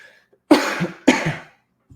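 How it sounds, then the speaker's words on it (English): Two harsh, close coughs about half a second apart, each a sharp burst fading quickly, with quiet around them. "still fighting off this cough"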